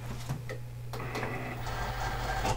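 A Cricut Explore cutting machine loads a sheet of adhesive foil. A quiet mechanical whir runs throughout, with a few brief clicks and soft motor pulses nearby.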